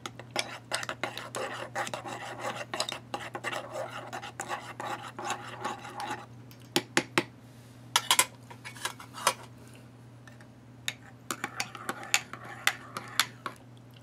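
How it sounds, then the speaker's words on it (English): A utensil stirs reconstituted WW2 K-ration food in a metal mess kit, making rapid rasping scrapes and clicks against the tin. The scraping is dense at first, then thins to scattered sharper knocks, close and moderately quiet. "Give that a stir and let it incorporate, do its thing."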